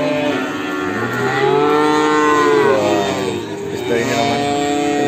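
Simmental and Limousin calves mooing at the Ambar animal market, with long, loud, close moos one after another over steady crowd and market background noise.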